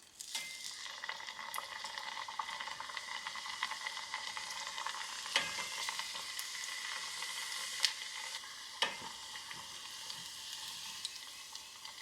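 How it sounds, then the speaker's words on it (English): Jibarito plantain slices, already pressed flat, crackle in hot oil for their second fry, a steady broadband sizzle with a few sharp pops scattered through, close and continuous with no voices. "Now it's time to put them back in the oil for their second fry."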